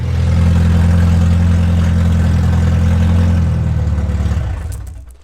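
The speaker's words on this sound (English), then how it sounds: "Fix my exhaust, as you can hear. It's pretty cocked." A car engine idles with a broken, snapped exhaust, giving a loud, deep, rough rumble that holds steady, then cuts off abruptly near the end.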